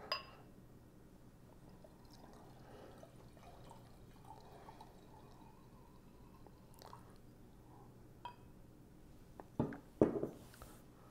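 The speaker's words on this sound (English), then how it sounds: "Label out, and a pour." Honey mead from Moonlight Meadery, a variety called Fling, is poured into a glass, heard as a brief, faint splash and trickle near the end after a long stretch of quiet room tone.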